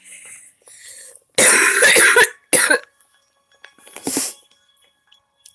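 A singer undergoing therapy coughs and clears her throat in a few short harsh bursts, close and loud, separated by quiet pauses and softer breathy sounds.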